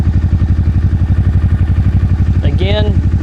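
A used motorcycle engine, roughly 14,700 miles, idles steadily up close with an even, rapid pulsing throb, settling back to idle without stumbling; a brief higher whine or squeal rises near the end.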